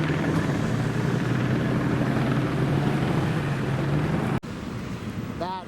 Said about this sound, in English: Oh, that's the chopper. That's the PD chopper over there.